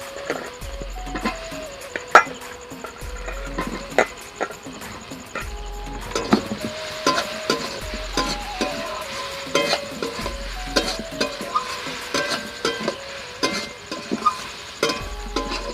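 Potatoes are stirred into frying spices in a pan, with repeated scraping and clinking stir strokes over a low sizzle, and faint music or tones underneath.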